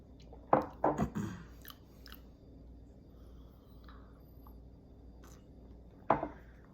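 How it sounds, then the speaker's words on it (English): Quick slurping sips of brewed Kenyan and Colombian blend coffee at close range, several sharp sucking bursts early on and another after a quiet stretch with low background hum. "Take a few sips here."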